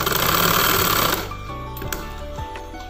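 A sewing machine stitching a boat neck chudidar runs in a fast steady whir for about a second, then stops, leaving faint clicks and handling noises.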